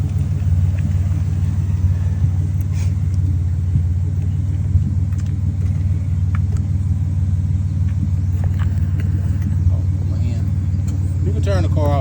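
A 2006 Chrysler Town & Country's engine idling, a steady low rumbling hum that holds throughout with small clicks and noises from nearby work on top.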